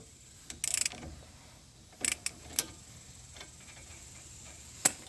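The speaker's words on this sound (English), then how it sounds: "we're going to get an extended handle ratchet and break these loose now" An extended handle ratchet breaking loose a brake caliper bolt on a 2011–2019 Ford Explorer. A few short metallic ratchet bursts and clicks ring out close by in otherwise quiet surroundings, with no talking.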